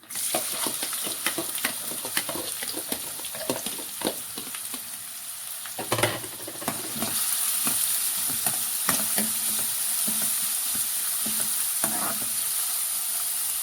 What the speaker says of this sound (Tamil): வெங்காயம் போட்டு வதக்க போகிறோம்.